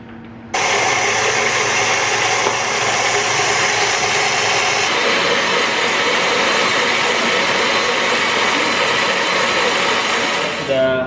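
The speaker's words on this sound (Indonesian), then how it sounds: "Kocok putih telurnya" Electric hand mixer whirring steadily as it beats egg whites for a tiramisu cotton cake, a loud continuous drone starting after a brief pause and running nearly eleven seconds, its pitch shifting slightly midway.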